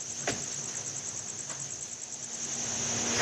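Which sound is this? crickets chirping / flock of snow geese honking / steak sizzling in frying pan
crickets chirping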